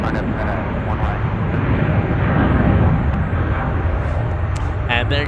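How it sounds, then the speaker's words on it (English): Boeing 777 airliner taking off at San Francisco, a loud broad roar of jet engines that swells and holds steadily, heard from a distance outdoors. "And there goes the 777."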